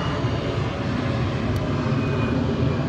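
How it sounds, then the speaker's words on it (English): A propeller airplane drones overhead, loud and steady throughout, a broad continuous engine rumble heard alone while a 2011-2016 Ford F-250 running board light is fitted. "excuse the airplane"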